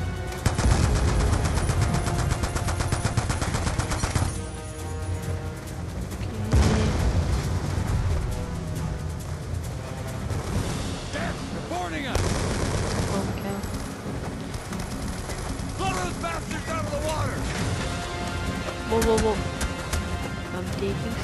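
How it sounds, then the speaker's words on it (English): Mounted machine guns fire from each side of a barge in the Black Ops 2 campaign. The bursts are loud and dense, mixed with booms and explosions, and voices talk over the heavy, continuous battle. "They're mounted MGs on each side of the barge!"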